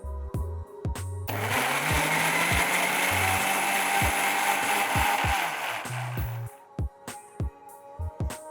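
A kitchen blender grinds muskmelon with condensed milk into pulp, a loud continuous motor whir lasting several seconds, framed by clunks and knocks of the jar before and after.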